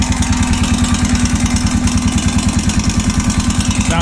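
Honda 650 motorcycle engine running with a bad knocking fault, giving a loud, steady rapid rhythmic clatter over the engine drone throughout, with no talk.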